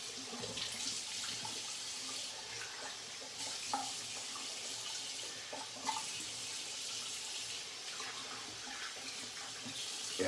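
Water runs steadily from a tap for rinsing after a shave, a continuous hissing stream with faint splashes and small knocks, close by and uninterrupted by speech.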